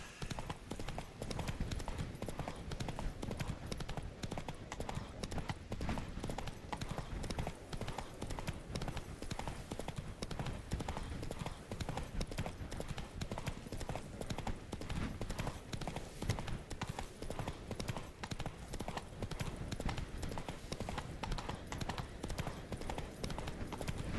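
Hooves of Roach, a horse in a video game, clip-clopping in a quick steady rhythm on firm ground, continuous and moderately close, with no one talking.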